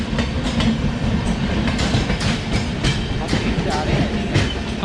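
An Indian Railways express train, the Kaifiyat Express on the main line, runs past close by at sunrise, a loud steady rumble with rhythmic clickety-clack wheel beats throughout.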